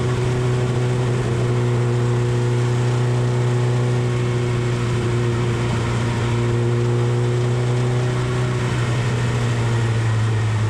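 A vintage race car with a four-speed gearbox, running in the Del Monte Trophy group at Velocity Invitational, drones loudly at steady high revs on track. Its strong engine tone holds nearly constant and close for the whole stretch.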